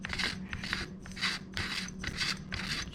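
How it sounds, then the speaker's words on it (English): A hand-tightened barrel shroud twisted off a BP12 shotgun, giving repeated rasping, scraping bursts of metal rubbing on threads, close and fairly loud, several turns in quick succession. "So now we're gonna remove the barrel shroud."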